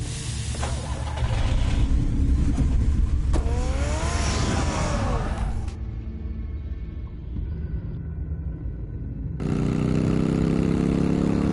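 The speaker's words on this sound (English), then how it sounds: "Get the car ready, Alfred." A car engine in a Batman video game rumbles loudly and revs for several seconds, drops to a quieter idle, then surges back up near the end.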